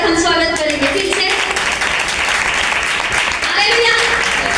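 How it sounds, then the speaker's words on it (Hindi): Church congregation applause at a Sunday service, sustained throughout, with a voice speaking and exclaiming over the clapping. "सो तालियों के साथ हम स्वागत करेंगे फिर से।"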